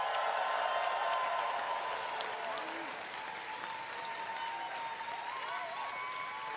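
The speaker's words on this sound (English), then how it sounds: "Our prop crew, please give them a big round of applause." Steady applause from a large audience at a live Fortnite Star Wars announcement event fills the whole stretch, dense clapping that eases slightly after the first couple of seconds.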